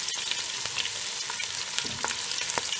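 Sliced onions and small shallots frying in coconut oil for a Malabar mutton kurma, a steady close crackling sizzle with scattered spatula scrapes and pops throughout, no voices.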